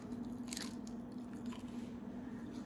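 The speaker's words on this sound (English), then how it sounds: "Do you hear that crunch? Let them hear that crunch." A sharp crunchy bite into an extra crispy Taco Bell fried chicken wing, a burst of crisp crackling near the start followed by softer chewing, close to the mic with a steady low hum.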